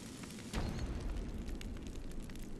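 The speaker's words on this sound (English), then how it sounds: "And then see the beautiful explosion." An explosion in the video game Ico goes off with a sudden broadband burst about half a second in, then a sustained low rumble and crackle that fills the rest of the clip.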